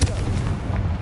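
A Confringo explosion spell in Hogwarts Legacy bursts with a single deep, booming blast and rumbling roar filling the whole moment, heavy and close.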